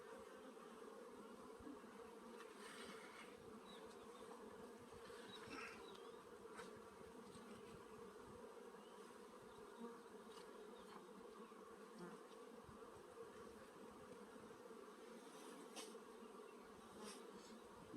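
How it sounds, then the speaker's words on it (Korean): Honeybees packed densely in a beehive during spring hive work give off a continuous, steady buzzing hum with occasional louder passes from bees flying close, and no talk over it. "지금 경계판 밖에까지 벌이 꽉 차 있고요"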